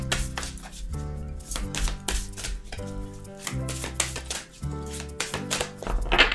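Oracle cards being shuffled by hand, giving quick, repeated papery slaps and riffles in an uneven rhythm, close and fairly loud with no talking.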